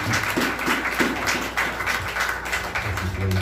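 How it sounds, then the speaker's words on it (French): A church congregation claps warmly, a busy patter of many hands that keeps going for a few seconds, with a low hum coming in toward the end. "nous invitons à applaudir cet esprit chaudement"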